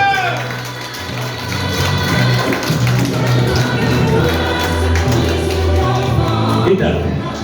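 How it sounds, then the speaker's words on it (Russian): Wedding guests applaud and cheer at a wedding celebration over music, with clapping and crowd noise layered under a host's voice and a steady low rhythmic beat. "Под ваши аплодисменты"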